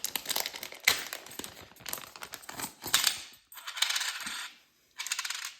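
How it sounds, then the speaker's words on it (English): Loose coins handled and clinked together, a few sharp metallic jingles mixed with crinkling paper and envelope rustling, close and intermittent in bursts with short pauses. "And then we've got some coins here."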